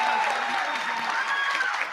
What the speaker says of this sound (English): One last round of applause for all our winners